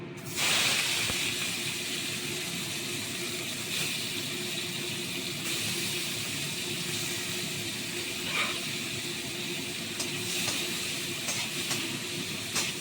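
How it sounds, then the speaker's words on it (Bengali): Shrimp frying in hot oil in a kadai give off a steady, loud, close sizzle with a few sharp pops scattered through it. No voices are heard. "তেলটা গরম হয়ে গেছে এবার আমি মাছগুলো দিয়ে নিচ্ছি"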